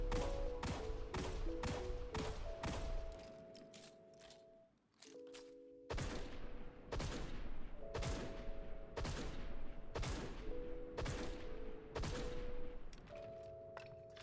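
The Criminal Stagger fires in Destiny 2 as a series of loud, sharp shots in rapid regular bursts, each ringing out with a metallic tail, interrupted once by a short pause and a reload-like clatter before firing resumes.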